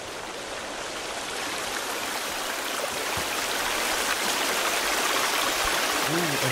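River water flows steadily in the survival video game Sons of the Forest, a constant broadband rushing wash that stays even and close throughout, with no talk.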